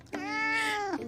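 A single cat in the game Love and Deepspace gives one clear, sustained meow of about a second, close and distinct.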